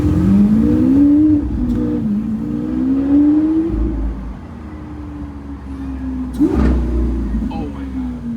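Lamborghini Aventador engine rising and falling through revs with downshift blips at city speed, loud and close, a sharp crackle near the end, under occasional talk.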